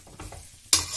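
Raw banana pieces dropped into roasted masala in a pan, a few soft scraping stirs followed by a sudden bright sizzle that starts near the end and holds.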